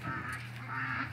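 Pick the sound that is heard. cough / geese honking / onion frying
geese honking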